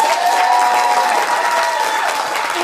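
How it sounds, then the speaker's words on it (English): Wedding ceremony guests applaud the newly pronounced couple: a dense, loud, continuous wash of many hands clapping, with faint crowd cheering mixed in. "And everyone, applause for Mr. and Mrs. Steve and Jill Ryan."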